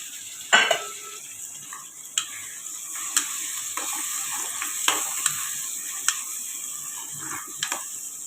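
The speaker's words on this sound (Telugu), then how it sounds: "పచ్చిమిరగా ఉల్లిపాయ వేగిన చూడండి ఇందులో టమాటా వేసేస్తున్నాను" Tomatoes go into a pan of green chillies and onions frying in oil, giving a steady close sizzle broken by sharp metallic scrapes and clinks of a spatula stirring at irregular intervals.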